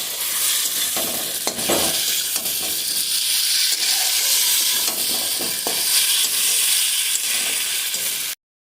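Spice paste frying hard in a pan over high gas heat for a soybean dish, a loud, steady, close sizzle with occasional stirring scrapes, cutting off abruptly at the very end.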